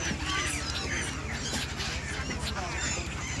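Red-beaked seagulls call in Da Guan Lou Park, Kunming, with overlapping squawks over steady background noise from a crowd.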